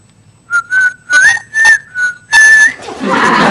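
A person whistles a short tune up close, a series of about six clear, loud notes, some sliding in pitch, followed by a breathy, hissing sound.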